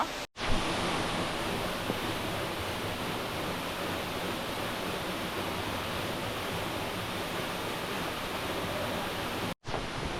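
Sivakona waterfall in the Nellore forest pours into a deep pool, making a continuous, even rush of falling water that sounds close and full, with no voices.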